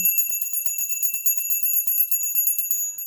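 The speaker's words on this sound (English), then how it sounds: "Let's ring our bell" A bright bell rings with a sustained, shimmering high tone that hangs steadily for about three seconds, alone and clear.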